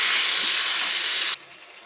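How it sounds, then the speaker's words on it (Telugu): Kokum soaking water poured into a hot pan, a loud close hiss of steam and sizzle that holds steady and then cuts off abruptly, leaving a faint low simmer. "ఆ నీళ్ళే ఇప్పుడు పోస్తున్నాను అనమాట"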